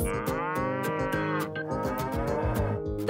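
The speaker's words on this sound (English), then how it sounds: "The cow says." A cow moos in a few drawn-out, low calls over upbeat music playing steadily underneath.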